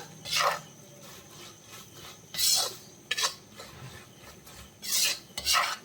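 Pickle powder is mixed into a beef pickle in a pan with repeated gritty scraping strokes, several loud rasping sweeps spaced irregularly over a quiet background.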